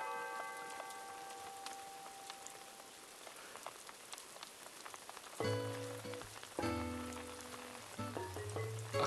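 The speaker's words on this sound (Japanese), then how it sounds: "すげえ雨降ってきた" Heavy rain pours steadily in Animal Crossing, a dense hiss of drops over ambient tones, with louder tonal game music or effects joining in the latter half.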